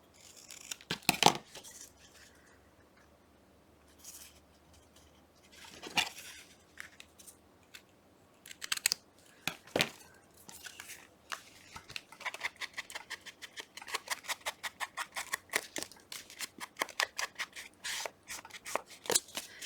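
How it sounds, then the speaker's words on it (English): Scissors snip through paper while shaping a tag for a Valentine envelope pocket, a few scattered cuts at first, then a quick run of close, crisp snips with no talking. "Let's cut it into a tag first."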